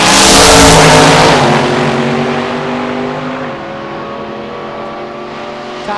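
Drag race cars, a 1965 Chevy Nova with a straight axle and a 1955 Chevy Bel Air, launch together with a loud roar that slowly fades down the strip while an announcer briefly talks.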